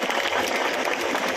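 Loud applause fills a public legal-aid camp in Lakhani as a crowd claps for the principal district judge and his organising team, a dense, steady crackle of many hands held for the whole moment.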